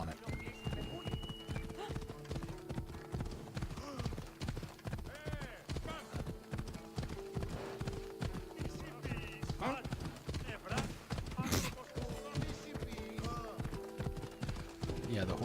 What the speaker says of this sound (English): the horse will run over people if they don't get out of the way fast enough.